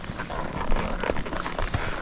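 Horse hooves clip-clop on the ground during a ride through the countryside to search for missing cows, a steady close rhythm of hoofbeats with no talking.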